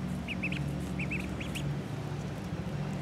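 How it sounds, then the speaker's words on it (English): Ducks in a backyard pen beside a pool, several short nasal quacks in two or three quick clusters, faint and somewhat distant over a steady low hum of background noise, no talking. "So yeah, I really like the ducks."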